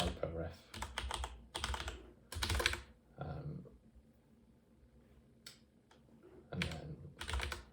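Computer keyboard typing of a LaTeX command comes in quick clustered bursts of close clicks and taps, with a long pause in the middle before more keystrokes, and no talk over them.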